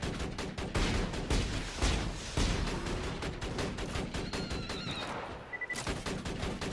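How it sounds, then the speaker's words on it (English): A grenade blast and heavy gunfire burst through a Borderlands 2 firefight, dense overlapping booms and rattling shots pounding continuously and loud, with a brief lull before the barrage resumes. "Dang grenade went behind me."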